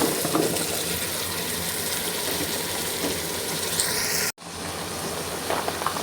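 Vegetables tipped into a pan of prepared spice mix and sautéed, giving a steady, dense sizzle and stirring clatter that cuts off abruptly near the end before resuming more faintly.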